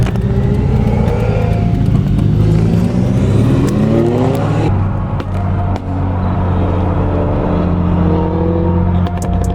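A loud sports car engine revs and accelerates up through the gears, its throaty exhaust roaring close by, then drops and climbs again.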